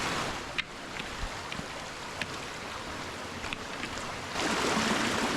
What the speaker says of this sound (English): we've hit the river. So this should be the top of the waterfall.